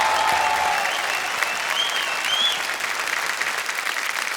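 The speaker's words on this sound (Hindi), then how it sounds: "तालियों के साथ आपका हम अभिनंदन करते हैं" A studio audience on the KBC quiz show applauds a contestant who has just won 50 lakh rupees, a loud, sustained wash of clapping that holds steady throughout.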